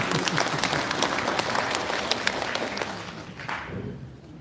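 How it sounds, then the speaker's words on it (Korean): An audience at a Jangseong County public hearing on the Gwangju-Jeonnam administrative merger gives brisk, full applause that holds steady for several seconds before fading away near the end. "지사님께 박수 한 번 보냅시다."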